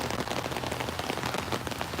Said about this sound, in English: Okay, rain's coming down